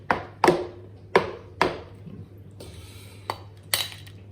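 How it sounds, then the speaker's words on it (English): Eggs struck against a hard surface while cooking brownies: four or five sharp, separate knocks spaced about half a second apart, then a brief crunchy scrape and two more taps, close and fairly loud over a low steady hum. "I'm going to try something that I recently saw when it comes to cracking eggs"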